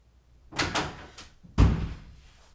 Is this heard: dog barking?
no